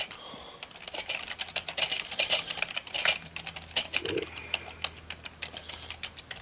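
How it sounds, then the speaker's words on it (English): Fast, uneven clatter of keys on a computer keyboard, near and fairly loud, in bursts of rapid tapping with short pauses, with a faint low hum underneath. "what the hell are you typing?"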